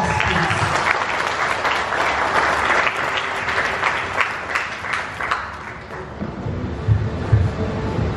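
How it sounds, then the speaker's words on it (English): An audience at a 27th anniversary celebration breaks into loud, steady applause that carries on for several seconds before thinning out a little toward the end. "A round of applause, please."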